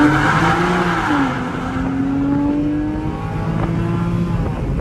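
A 2006 Porsche 911 accelerates hard, its engine note climbing in pitch, easing briefly, then rising again, loud and close with no talk.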